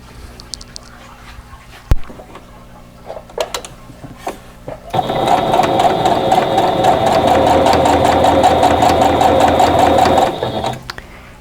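A sewing machine runs steadily for about five seconds, stitching the edges of quilt patch units for a Buckeye Beauty block, after some quiet handling clicks; its close, busy whir stops abruptly.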